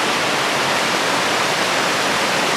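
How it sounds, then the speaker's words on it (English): A series of small waterfalls at East Gill Force on the River Swale, heard as steady, broadband rushing water close by, continuous and even throughout with no voices. "just a series of little waterfalls."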